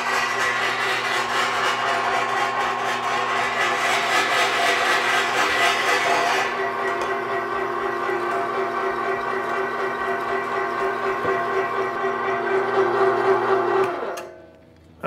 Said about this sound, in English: Okay, we got it run through the grinder once.